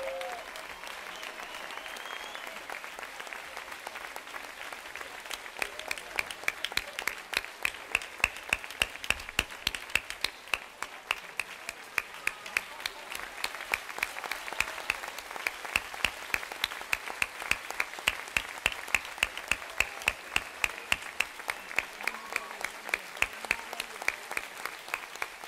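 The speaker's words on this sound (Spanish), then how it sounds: "Ese fuerte aplauso para la banda de música" Sustained applause from an audience for a music band at a live performance, dense clapping that swells and holds steady throughout, a large crowd clapping close and loud.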